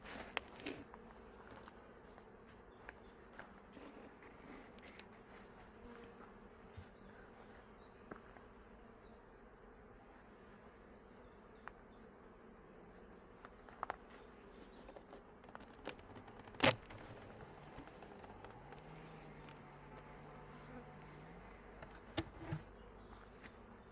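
Honey bees bringing pollen to a hive make a low, steady, faint buzzing hum that carries on throughout, with scattered small taps and knocks over it.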